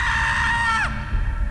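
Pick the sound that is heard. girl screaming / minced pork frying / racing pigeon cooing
girl screaming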